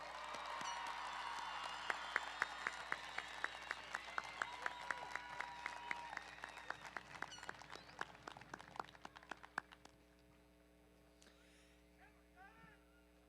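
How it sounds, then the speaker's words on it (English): An audience at a high school graduation ceremony for the class of 2026 gives a round of applause with some cheering, sustained at first and then tapering to scattered claps before fading out. "How about one more round of applause for all our graduates?"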